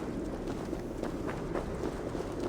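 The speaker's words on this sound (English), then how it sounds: "That sound. Is it thunder? Footsteps." Running footsteps of approaching enemies in Assassin's Creed Valhalla, a quick rhythmic patter of several strides, fairly faint amid windy ambience.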